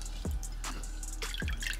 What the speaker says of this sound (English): And then we're going to clean off our sea moss. And basically you just swirl it around